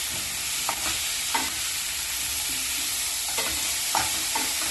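Paneer cubes being stirred and heated in a hot pan over high flame, a steady sizzle broken by several distinct scraping strokes of the spoon, close and clear with no voices.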